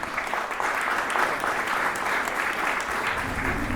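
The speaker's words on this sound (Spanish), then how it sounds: "Un aplauso muy grande para el creador." Audience at an awards ceremony applauding the prize-winning creator: a continuous wash of many hands clapping at moderate volume, even and sustained, with faint low rumble beneath.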